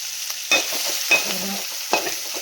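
Onions sizzle steadily in hot oil while a utensil stirs and scrapes the pan in a few bursts, close by.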